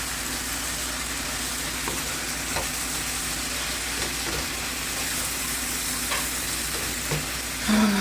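Spinach and leftover sauce are stirred in a frying pan, a constant close sizzle with scattered soft scrapes and taps and a brief louder clink at the end.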